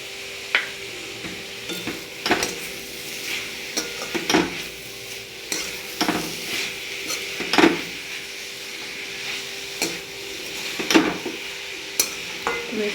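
Radish bhaji is stirred and fried in a pan. A spoon scrapes and clinks against the metal in irregular strokes over a soft, continuous sizzle, with no talking.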